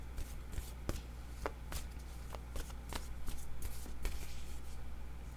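A deck of tarot-style cards shuffled close up during a card reading, producing repeated crisp riffles and soft slaps of cards at an irregular pace over a quiet background.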